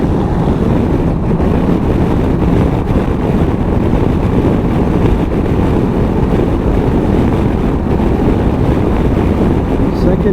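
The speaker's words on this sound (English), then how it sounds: "Buffeting, quite a lot of buffeting on the helmet." Steady, heavy wind buffeting roars against a helmet on a 2019 Honda CB500X motorcycle, a dense low rumble that stays loud and unbroken throughout.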